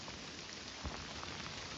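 Steady rain falls outdoors on a road near Virar jetty, a dense even hiss with a faint thump partway through and no voices.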